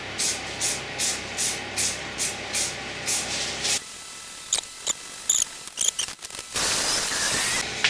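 A spray can hissing in short rhythmic bursts as base colour goes onto a beech bowl, followed by scattered clicks and a longer steady hiss near the end.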